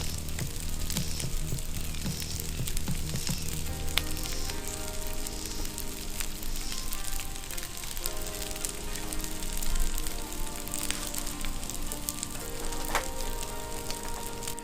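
Green onions sizzle steadily in a hot pan for camp-kitchen fried rice, a continuous close frying hiss with no talking over it.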